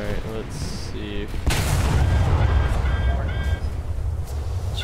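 Ship guns firing from the destroyer USS Cowell, DD-547, in War Thunder: a heavy boom rolls into a sustained low rumble, with tonal beeps and faint chatter around it.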